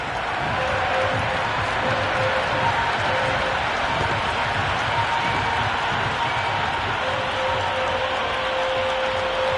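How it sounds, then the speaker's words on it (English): Cricket match crowd at a Vijay Hazare Trophy one-day game between Mumbai and Sikkim, a steady roar of cheering and applause that fills the whole stretch, dense and continuous with a distant, stadium-wide spread. "The crowd are really getting quite raucous"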